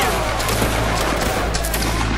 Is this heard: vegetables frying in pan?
no